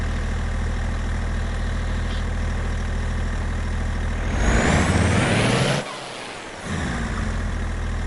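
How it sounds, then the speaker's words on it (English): A heavy truck engine in Farming Simulator 22 drones steadily, then a rising turbo whine swells and cuts off with a sharp hiss of released air before the engine settles. "Just like hearing the turbo in this truck."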